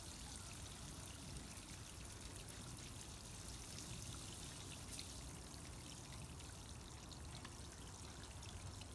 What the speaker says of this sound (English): I'm now watering the entire root ball around the plant